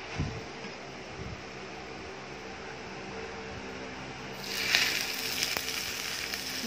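Hot oil with scallions poured over a steamed fish fillet with tofu, a steady soft sizzle that suddenly swells into a louder, brighter crackling hiss as the oil lands, with no talking over it.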